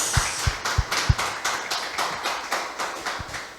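A church congregation claps together in a steady, rhythmic beat, a string of sharp, fairly faint slaps repeating about three times per second with no one speaking.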